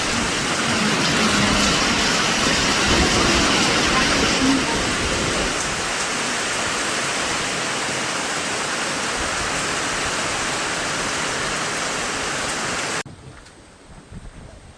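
Heavy typhoon rain from Typhoon Tino pours steadily onto a hut, a dense, loud roar of water and wind that holds for most of the stretch, then drops off sharply to a quieter patter near the end.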